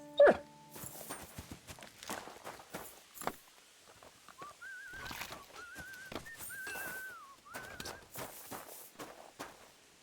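A dog in the medieval game Kingdom Come Deliverance II makes scattered short sounds among clopping hoofbeats and footsteps, with a sharp noise at the start and whistling bird-like calls in the second half.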